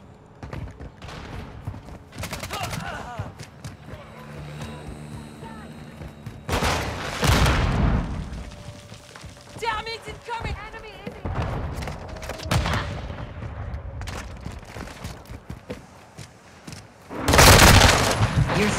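Gunfire and explosions in Call of Duty Modern Warfare 2, including a cruise missile strike: scattered gunshots and several loud, sharp blasts punctuate a busy battle soundscape, with radio-style voice lines heard at points.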